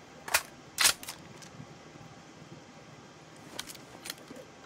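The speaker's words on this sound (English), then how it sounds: "Now let me go ahead and reload my gun." A gun is reloaded in PUBG Battlegrounds with a few sharp mechanical clicks and clacks, two louder snaps near the start and fainter ones later, over a quiet background.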